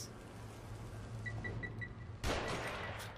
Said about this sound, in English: He shot at me.